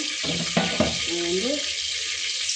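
Oil heats in a pan for a bean stir-fry, giving a steady hiss and sizzle under a few knocks and a brief voice-like sound.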